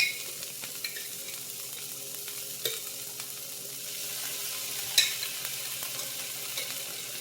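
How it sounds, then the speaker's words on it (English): Diced jalapeños sizzle steadily in a hot frying pan, a constant crackling hiss with a few sharper pops and clanks of stirring, heard up close with no talking. "I'm going to throw in some jalapenos."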